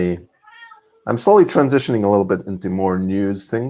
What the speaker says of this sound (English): My cat is meowing; he wants to go out.